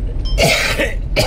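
A person coughs outdoors in the Pangasinan area: a harsh, throaty burst followed by a second, shorter cough, close and fairly loud with no speech.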